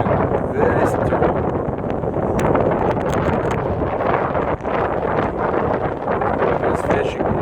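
Very strong wind at sea, recorded from a fishing boat, roars steadily and loudly against the microphone for the whole stretch, a dense continuous rush with no let-up.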